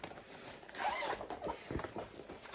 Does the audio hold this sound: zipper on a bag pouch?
yes